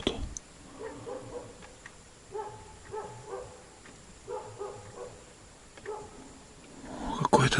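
Dog barking at night outside a forest hut, a series of short barks in several clustered bursts at moderate distance, with faint background noise between them.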